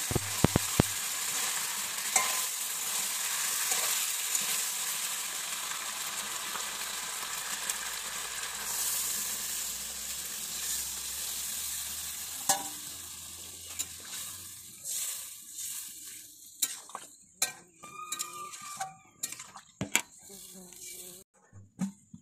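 Chicken and taro curry sizzles and fries loudly in a pan, then water is poured in and the hiss settles into quieter bubbling and scattered stirring clicks.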